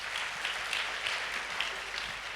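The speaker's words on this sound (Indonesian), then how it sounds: "Tepuk tangan sama Tuhan Yesus." Congregation applauding during a Sunday church worship service, a steady, dense clapping from a crowd that holds evenly throughout without talk.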